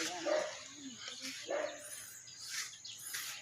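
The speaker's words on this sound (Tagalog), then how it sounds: "Dito, may aso rin dito." A dog on a rooftop gives a few short, faint barks and yips, spaced out against open outdoor air with wind and distant background noise.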